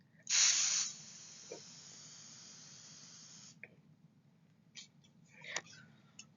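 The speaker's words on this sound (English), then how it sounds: "This Lysol won't hurt a bit." A Lysol disinfectant spray can lets out one short, fairly loud hissing burst near the start. Quiet handling noises and small clicks follow.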